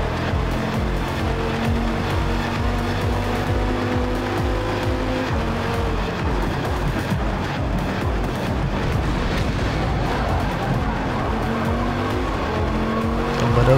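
Race car in Forza Motorport braking hard at Laguna Seca (WeatherTech Raceway), engine droning loudly with tire squeal and skidding as it slows, close and continuous, another car running near behind.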